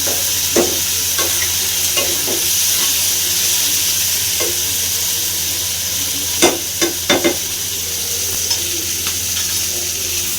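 Loud, constant sizzling of fish frying in a hot pan, broken by scattered clinks and scrapes of a spatula stirring.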